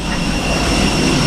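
Steady, loud engine roar surrounds passengers boarding a budget flight from Malaysia to Cambodia, a broad continuous whine and rumble with no breaks, heard from inside the aircraft cabin.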